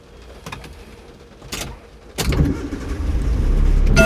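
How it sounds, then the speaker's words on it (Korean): A car engine is cranked and catches during a driving test, after a few clicks and a door-like thud, then settles into a low idle that grows steadily louder, close up. "5초 내에 엔진 시동을 거세요."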